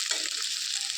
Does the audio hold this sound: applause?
no